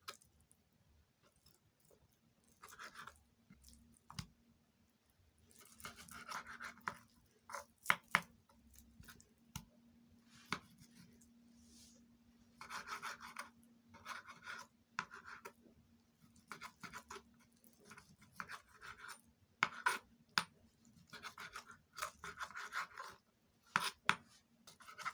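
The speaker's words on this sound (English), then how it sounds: "I'm done cutting the beef into strips" A knife slices beef into strips on a cutting board, giving irregular bursts of quiet taps and scraping strokes with short pauses between them, close and alone without talk.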